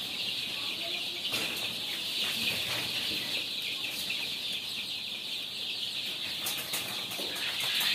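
Many young chicks cheep and peep continuously in a dense, high-pitched chorus on a poultry farm, with occasional rustling and flutters nearby.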